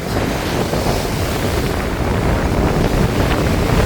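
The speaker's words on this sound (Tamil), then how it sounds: "புயல் அடிக்க எப்படி வந்து அலை அடிக்குதோ அதேமே அடிக்குது அவ்வளோ வேகமாக இருக்குது காற்று" Strong sea waves crash and surge continuously along the Jaffna coast in stormy, high wind, with loud, unbroken roaring surf and heavy wind buffeting the microphone throughout.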